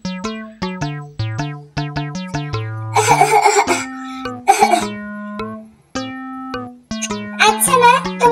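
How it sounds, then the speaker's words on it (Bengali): A child coughs in harsh, clustered bursts midway and again near the end, over a loud melodic instrumental tune. "কাশতে কাশতে আমার মেয়েটার দম বন্ধ হয়ে যাওয়ার উপক্রম হয়েছে।"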